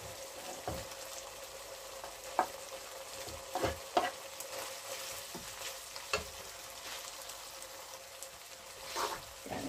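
Carrots stir-fry in a small, deep new pan with a steady background sizzle, broken by irregular clinks and scrapes of a spatula against the pan.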